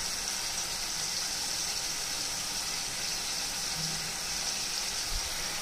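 Prawns fry in a pan with a steady, even sizzle, a constant fine crackle heard close and fairly quiet with no talk.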